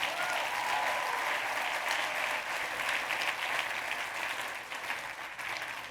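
An audience at a live talk breaks into loud, continuous applause that holds steady for several seconds and tapers slightly toward the end.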